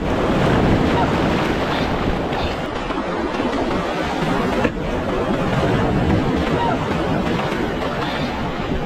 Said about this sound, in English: The waves are kind of intense, but you know, the beach is beautiful.